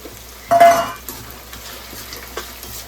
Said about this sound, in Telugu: చూడండి రొయ్యలు వేస్తున్నాను